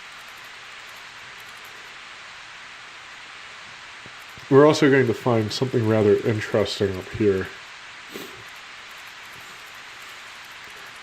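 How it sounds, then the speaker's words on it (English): Rain effect in the PS2 game Disaster Report, a steady hissing downpour that runs as an even wash throughout, with someone talking briefly over it midway. "I thought the rain effect was really bad, but I kind of like it now."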